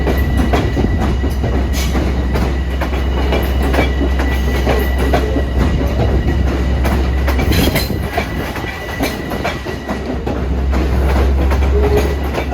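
A Long Island Rail Road train rolls through a track change at the Jamaica hub, with loud steady wheel rumble and rhythmic clickety-clack from rail joints, plus occasional squeals, heard up close for the whole stretch.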